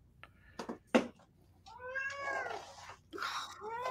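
A cat gives a few faint clicks and taps, then lets out a drawn-out, wavering meow followed by a second long, rising meow, fairly close and clear over a quiet room.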